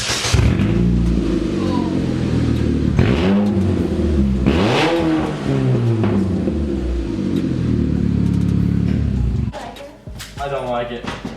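A car engine revs repeatedly through its exhaust inside an echoing garage, loud rising and falling roars that run nearly throughout, with people's voices mixed in, before the revving cuts off near the end.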